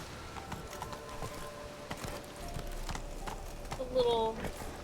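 Hooves of the horse Roach clip-clop across ground in The Witcher 3, a steady mid-distance rhythm of thudding steps with faint game ambience and a brief rise near the end.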